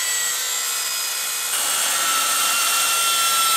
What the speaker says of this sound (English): So we're going to get the chop saw off.